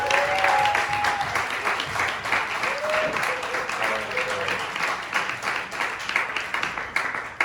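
A crowd at an intimate live music gig in Chicago claps and cheers continuously, a dense wash of applause with a few whoops rising above it.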